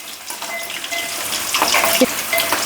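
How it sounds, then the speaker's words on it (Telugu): Coriander, cumin and sesame seeds fry in hot oil for a gongura fish fry, a close, crackling sizzle with brief scraping stirs mixed in over a couple of seconds. "ధనియాలు కానీ జీలకర్ర కానీ నువ్వులు కానీ ప్రతి ఒక్కటి ఆయిల్లోనే వేపుకోవాలి"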